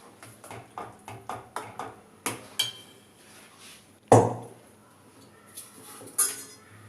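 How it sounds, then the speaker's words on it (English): A spoon clinks and scrapes repeatedly against a pan while white sauce pasta is stirred, a steady run of light metallic taps with one sharper knock midway, no talk. "Let's give a good mix."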